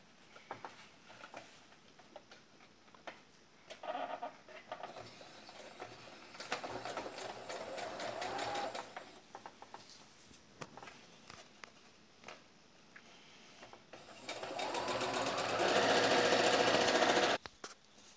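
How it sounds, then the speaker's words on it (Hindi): A sewing machine stitches a men's shirt collar in bursts of rapid needle chatter separated by pauses, with a longer and louder continuous run near the end. "यहाँ सिलाई लगाएंगे"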